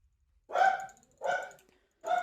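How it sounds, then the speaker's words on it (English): Dogs barking indoors in three separate loud bursts, each a cluster of sharp barks with short gaps between them, fairly close by in a home. "Sorry about the dogs. Not much I can do about it."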